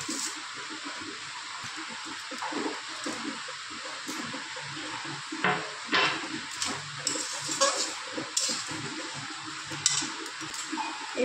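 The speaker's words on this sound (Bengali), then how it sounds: "এটা এবার ভালোভাবে ফুটিয়ে নেব।" Pineapple chutney with sugar added bubbling in a pan, a steady close simmer with soft wet pops and a few louder liquid splutters, no talk.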